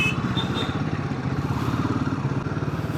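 Motorcycle engine running steadily nearby with a rough, chugging rumble and some mechanical clatter, continuous throughout.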